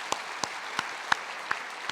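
During a Christmas thanksgiving church service, a handful of slow, evenly spaced claps ring out faintly, about six in all, with quiet room tone between them.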